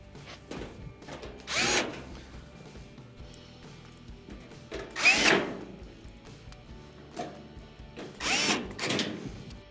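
A power drill drives screws into a Frigidaire oven panel during a temperature sensor repair, giving three short whirring bursts about three seconds apart with quiet pauses between.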